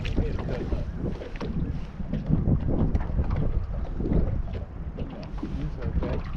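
Strong wind blows across a lake around a fishing boat. Continuous, loud, rumbling gusts buffet the microphone, with uneven surges throughout.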